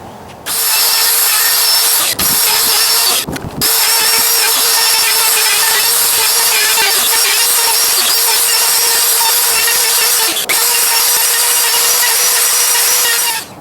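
A plunge router cuts a groove in a wooden plank for a patio tabletop, letting out a loud, continuous high whine that drops out briefly a couple of times before resuming.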